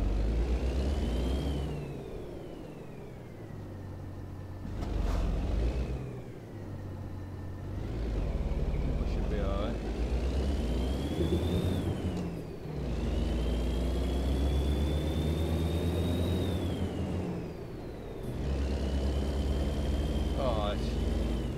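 A truck engine drones in American Truck Simulator, a loud low steady hum rising and falling through gear changes with a whining pitch sweeping up and down, and brief dips between shifts, sustained throughout.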